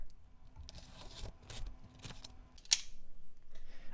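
A blade slashes through the tape of a cardboard box holding a watch and sunglasses storage case, a few quick scraping cuts followed by a short sharp rip, close and fairly quiet.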